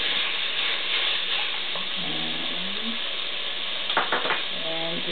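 Raw onion sizzling and frying in a pot for Korean kimchi jjigae, a close steady crackle with stirring scrapes, a brief metallic clatter near the end, and faint talk in the background.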